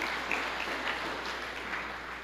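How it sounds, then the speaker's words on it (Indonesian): Indonesian church congregation applauding during a sermon, a steady, moderately distant wash of clapping with no talk over it. "Berikan tepuk tangan yang meriah buat Tuhan."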